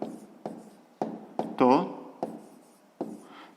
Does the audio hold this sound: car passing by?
no